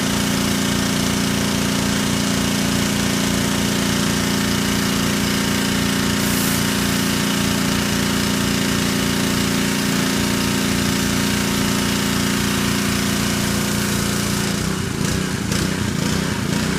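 A new surface cleaner runs across a driveway dirtied by mowers and cleaning decks, giving a steady, loud motor drone with a constant pressure-washer hiss throughout, shifting slightly near the end.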